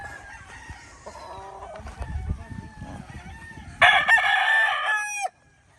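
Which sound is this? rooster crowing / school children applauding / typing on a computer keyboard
rooster crowing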